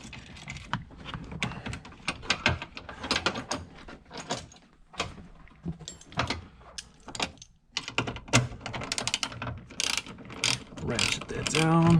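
A hand ratchet clicks in rapid bursts while tightening a fastener on a Honda Fit seat belt adjustment assembly, close and loud, with short pauses between strokes.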